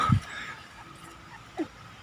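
A dog that has just given birth lets out two short, thin whimpers, one at the start and one near the end, with quiet background noise between them.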